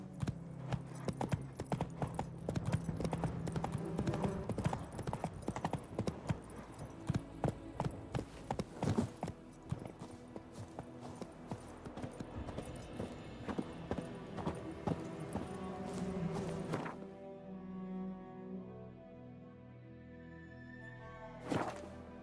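Roach, a horse in The Witcher 3, gallops in a rapid rhythmic clip-clop of hooves over game music and ambience, the hoofbeats thinning toward the end as the music carries on.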